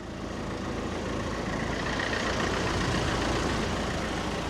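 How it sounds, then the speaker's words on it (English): A parked vehicle's engine idles with no driver aboard, giving a steady, close, low rumble that holds evenly throughout with no talk over it. "The driver's got out of the vehicle and left the engine running."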